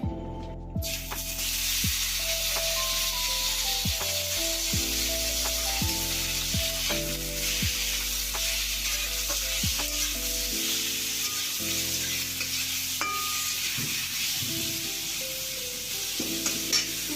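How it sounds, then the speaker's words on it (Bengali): Boiled papaya added to hot oil with fried tempering spices sizzles loudly and steadily throughout, with a constant frying hiss and occasional tonal clinks and background hum, no voices. "তো আমি আগের থেকে সিদ্ধ করা পেঁপেটা দিয়ে দেব তেলের মধ্যে"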